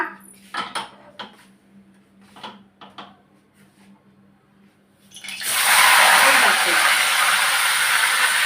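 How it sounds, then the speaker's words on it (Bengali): Fish heads fry in a pan for a Bengali pui shak chhechra, first with scattered clinks and scrapes of utensils, then a sudden loud, sustained sizzle and hiss that fills the rest of the clip. "মাথাগুলোকে আমি ভেজে নিচ্ছি এগুলোকে ভেজে নেব"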